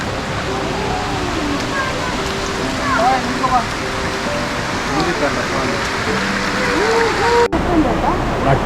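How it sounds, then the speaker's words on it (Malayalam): Water of Dudhsagar Waterfall flows in a loud, constant broadband roar, with faint voices now and then over the rush. "നമ്മളിങ്ങോട്ട് ഇറങ്ങി വരുമ്പോൾ തന്നെ കാണുന്നത് നല്ല മനോഹരമായി വെള്ളം ഒഴുകി വരുന്നതാണ്"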